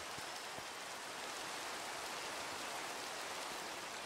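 Rain in the video game Minecraft falls as a steady, soft hiss of broadband patter, even and continuous throughout with no talk over it.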